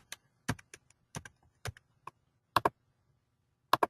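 A computer keyboard is typed on to enter a date in an order form, sparse individual keystrokes clicking at an irregular pace, close and crisp against near silence.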